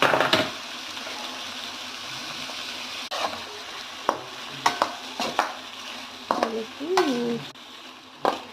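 Tomato pieces fry with salt in a hot pan, giving a soft steady sizzle under repeated spoon scrapes and clinks against the metal, close by, with a faint voice now and then.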